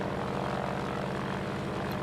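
The Hawker Hawk III fighter's propeller engine drones steadily during a climb in World of Warplanes, a constant buzzing rumble with a throbbing pulse that stays at the same level throughout, with no talk.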